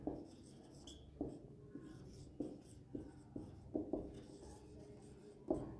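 Chalk or marker writing on a classroom board during a lesson, a run of quiet scratchy strokes in bursts with short pauses, close and faint.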